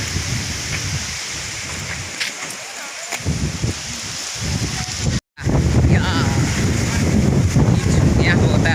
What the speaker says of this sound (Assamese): ওচৰতে নদী লাগি আছে ন সেইকাৰণে বতাহ বহুত বেয়া আহিছে